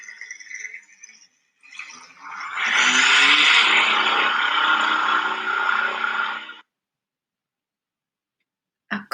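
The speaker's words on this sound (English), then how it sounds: "A car can make a noisy sound." A noisy car engine revs up into a loud, rough roar for about four seconds, then cuts off abruptly, with some fainter engine noise just before and a brief burst at the very end.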